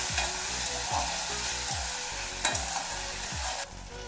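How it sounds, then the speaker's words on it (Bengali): Spices fry with green chili and ginger paste in a village-style Bengali kitchen, a bright, close sizzle punctuated by rhythmic low knocks of stirring, without any voices. "ভালো করে আমি একটু ভেজে নিচ্ছি।"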